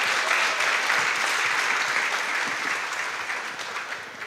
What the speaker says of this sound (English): So a big applause to her.